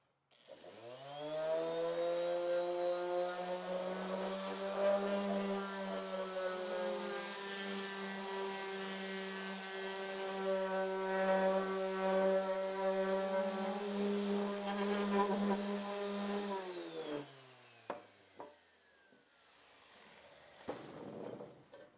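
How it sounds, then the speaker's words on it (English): A power sander whines loud and steady against metal for about seventeen seconds, its pitch shifting slightly, then spins down and stops, leaving a few clanks in a garage. "that's going to take quite a while to do with the sander"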